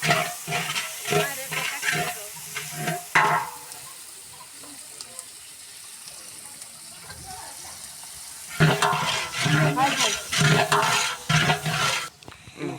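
Chopped onion and chili fry in a pan with a loud hissing sizzle and scraping stirs that ease into a quieter stretch before the sizzling swells again.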